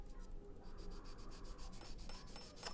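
Steady, continuous soft rubbing of a softback sanding sponge stick against a plastic scale model part, close up, with a faint rhythmic back-and-forth scrape.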